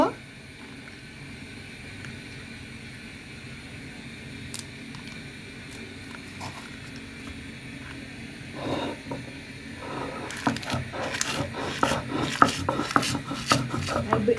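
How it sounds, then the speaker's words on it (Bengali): Roasted chillies and salt are ground finely on a grinding stone, giving a soft, repeated rasping and rubbing that grows busier toward the end, with a person talking over it. "মিহিন করে বাটা হচ্ছে"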